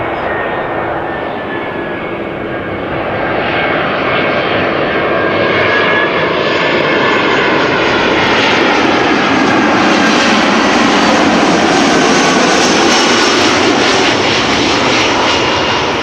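Airbus A320 airliner at Amsterdam Schiphol Airport, a loud, sustained jet roar that swells and holds steady across the whole stretch, with shifting whine tones as the aircraft passes close by.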